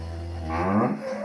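A cow lets out a single short, close moo that rises and fades, heard alone among a herd of cattle turned loose on an open field.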